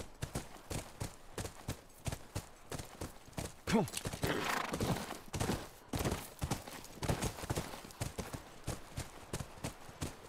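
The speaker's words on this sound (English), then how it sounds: "That's our horse." Horse hooves clip-clopping at a steady trot in The Last of Us near a ranch, fairly close and continuous, with a brief spoken line and a horse whinny mixed in.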